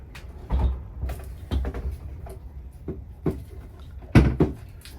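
RV refrigerator doors being put back on, heard as a series of sharp knocks, clunks and thumps at irregular intervals, close by with quiet gaps between, including a louder cluster of bangs near the end.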